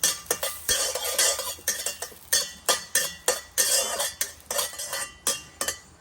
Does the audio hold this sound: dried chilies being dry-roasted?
yes